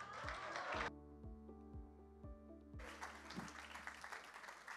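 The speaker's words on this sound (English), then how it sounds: "With this round of applause, please receive the moderator for this panel, Omina CEO, Andrea Soma." An audience at a summit panel breaks into broad, crackling applause, which gives way to a stretch of music with steady low thumps before the clapping swells back up and carries on.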